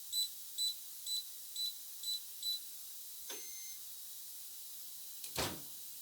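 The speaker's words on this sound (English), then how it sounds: "Once you do, you'll hear a beep and it will be set." A KAER 1447 biometric safe keypad gives six short, evenly spaced electronic beeps, a longer tone, then a mechanical clunk, all faint and close with no talk.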